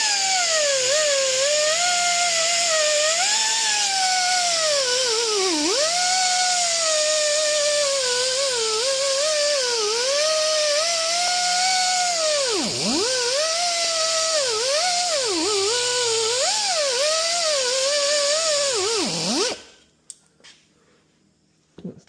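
A high-speed power tool polishes inside a port of a lift truck basket cylinder, whining loudly and continuously with its pitch dipping and rising under load, then cutting off near the end.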